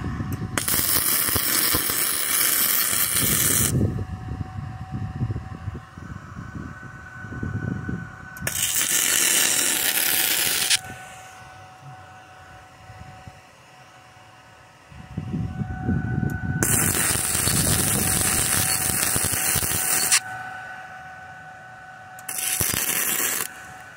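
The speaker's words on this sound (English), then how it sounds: "My son's going to be welding right now in a minute." Welding on a refurbished clutch pedal comes through as long bursts of harsh, steady crackling hiss, several seconds each, broken by quieter gaps with a faint background hum.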